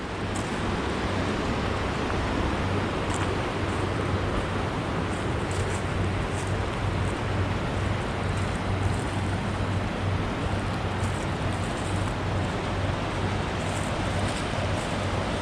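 The swollen Roanoke River at Weldon runs fast and high after snow and ice upstream, making a steady, dense rushing roar that stays unbroken and fairly loud throughout.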